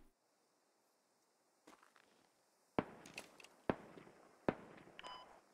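Distant gunshots in the military shooter game Squad, three sharp cracks about a second apart with short echoing tails, heard after a near-silent lull, faint and far off with no talking.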